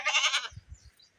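A homestead goat gives a single loud, wavering bleat nearby, followed by a few soft low thuds before the clip goes quiet.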